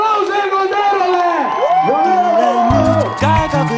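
A loud crowd of young people at a student work brigade summer event shouting and whooping, with strong sustained voices and cheers and a low rumble toward the end.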